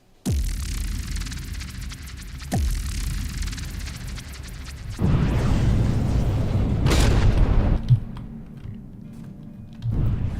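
Missiles strike in the naval combat game From the Depths, with sharp booming impacts near the start and at 2.5 seconds. A sustained rumbling barrage of explosions follows from the midpoint onward, with another hit near the end.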